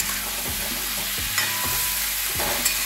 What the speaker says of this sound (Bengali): এবার খুব ভালো করে কষিয়ে নেব।